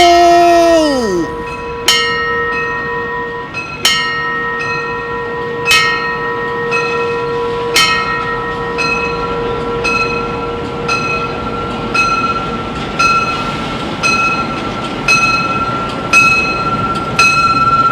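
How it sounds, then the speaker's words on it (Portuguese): A train pulls into a station, its wheels and carriages rumbling steadily while a bell rings in regular strokes about every two seconds, with a brief squeal at the start and a sustained tonal hum throughout. "O trem vem!"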